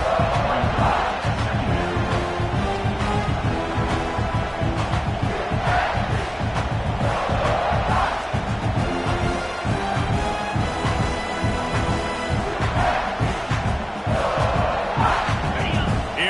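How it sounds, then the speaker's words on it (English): A packed stadium crowd at a football game roars continuously, building in intensity with surging cheers and shouts, loud and close throughout, while a broadcaster's voice is faintly present under the din. "this crowd is turning it up a notch"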